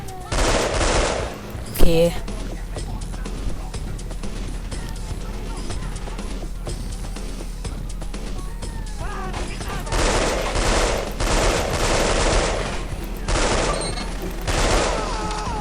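Sustained automatic gunfire and scattered shots in Delta Force: Black Hawk Down, a desert military shooter, with a loud burst near the two-second mark and heavier volleys later, under occasional talk.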